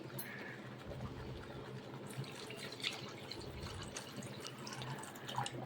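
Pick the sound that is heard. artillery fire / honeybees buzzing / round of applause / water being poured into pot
water being poured into pot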